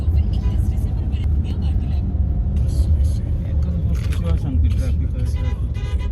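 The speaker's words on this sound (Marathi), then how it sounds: "सकाळची वेळ पण ट्रॅफिक भयंकर आहे" Steady heavy morning traffic rumbles close by in Mumbai, engines droning with passing vehicles, while a person talks over the low noise.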